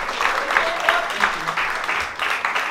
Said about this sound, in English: Give it a great round of applause to my colleagues.